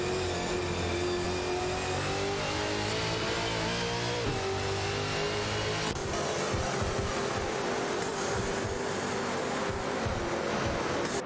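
Video game race cars, a Holden Commodore VE and a Nissan Altima, battling on track. Their engines drone steadily at a sustained pitch, with gear-shift changes, and there is no talk.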